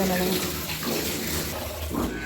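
Raw chicken is rinsed under a running kitchen tap, giving a steady rush of water close by for the whole stretch while a voice talks over it.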